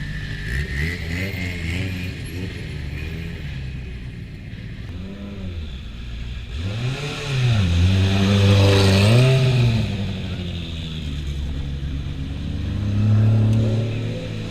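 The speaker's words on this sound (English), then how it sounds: "Perhaps the only real shame with the Lancia is nowhere near as noisy as I was expecting it to be." A V6 turbo Lancia Delta Integrale clone at a hillclimb speed festival drives past, its engine building from a distant drone to a loud, rising rev and roar as it nears, then fading before a second surge.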